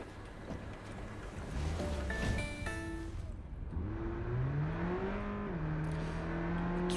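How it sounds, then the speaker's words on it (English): A shabby car's engine in Cyberpunk 2077, with a raspy rally-car tone, revs and climbs through the gears in rising and falling pitch sweeps, loud and close, with some in-game beeps early on. "It really does sound like a 70s rally car."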